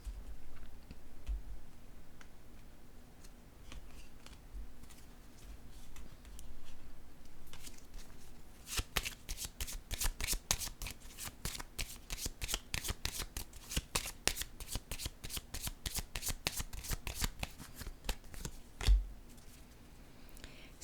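Tarot cards shuffled by hand, soft riffling at first, then a long run of rapid crisp card snaps close up, with a card set down near the end.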